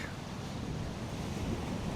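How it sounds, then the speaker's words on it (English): Sea waves wash steadily up a steep shingle beach at Holland-on-Sea in the UK, a continuous broadband rush of surf with some wind buffeting the microphone and no clear breaks. "Them waves don't look that big, but every now and again a big one rolls straight up that beach."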